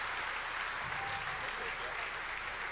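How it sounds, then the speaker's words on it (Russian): Audience applause at an evening concert event in Jurmala, a steady wash of clapping with some voices mixed in throughout. "Вы можете аплодировать, Интер."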